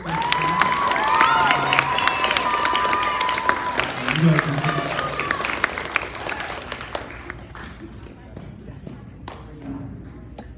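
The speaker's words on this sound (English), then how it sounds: "So give them one more round of applause." Audience applause at a D.A.R.E. celebration for a Washington STEM 2021 competition, a crowd clapping and cheering loudly for several seconds before fading out, with a speaker's voice over it.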